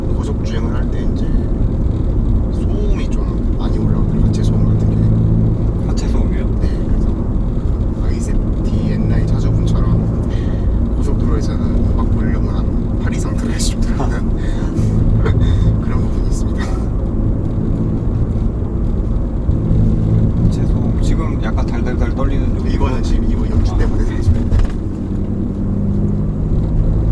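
Inside a 2019 Hyundai Veloster 1.6T with a manual gearbox, constant road and underbody drone fills the cabin at speed, with tyre rumble running steadily beneath people talking throughout.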